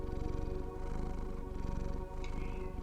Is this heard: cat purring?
yes